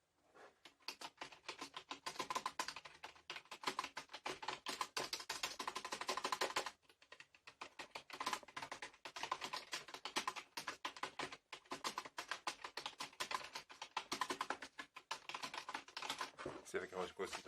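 Rapid typing on an HP Wireless Keyboard K2500, held close to the microphone, a dense stream of light plastic key clicks with a brief pause midway, then continuing at a quick, uneven pace.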